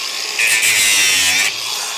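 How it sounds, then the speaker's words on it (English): Angle grinder cutting nails off timber while building a garden room, a loud high whine that rises sharply for about a second then drops back to a quieter run, heard close and alone. "I'll get the angle grinder now and just take them nails off there that are in my way"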